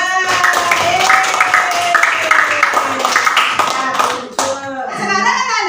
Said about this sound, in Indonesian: ya tepuk tangan buat kelompok 2.